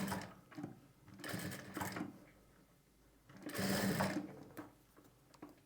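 An electric sewing machine stitches lining and piping in bursts of fast, steady whirring, separated by brief pauses with no talk.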